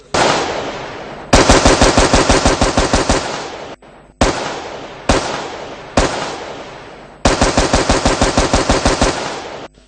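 Loud bursts of rapid gunfire aimed at a prison bus, several long rattling volleys separated by single sharp shots and brief pauses, close and harsh.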